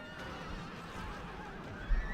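A horse whinnies over a dense background din of battle in the game Europa Barbarorum, with a short thump near the end.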